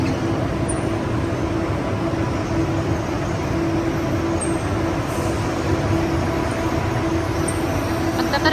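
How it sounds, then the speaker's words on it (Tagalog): A steady, unbroken rumble of a train running on the rails in Kuala Lumpur, heard from on board with constant rolling noise and faint high squeals. "Non-stop, ang ganda ng train."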